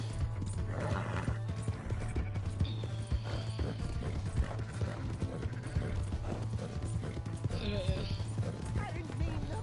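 Horse hooves clip-clopping at a steady gallop in the video game Red Dead Redemption 2, with a neigh and whinny breaking through, played under ongoing character dialogue and speech.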